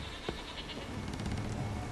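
Goats bleat in The Witcher 3, a few short distant bleats over a low game ambience.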